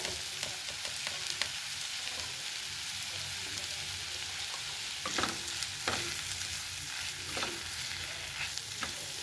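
Masala sautéed and stirred in a pan with salt, for an aloo mutter bhaji: a steady sizzle with repeated scraping strokes of the spoon, close and continuous, no talking.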